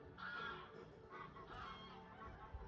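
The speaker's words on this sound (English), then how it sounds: "they're flying in formation, and they're encouraging the leader. That's why they do all the squawking" Geese flying in formation honk in a few faint, distant calls, heard outdoors with no talking over them.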